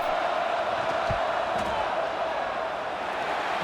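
Stadium crowd in a college football video game, LSU at Texas A&M, during a pivotal field goal attempt: a steady, dense roar of fans holding at an even loud level throughout, with no distinct cheer spikes.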